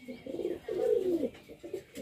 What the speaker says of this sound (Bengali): এখানে এক পেয়ার হোমার কবুতর আছে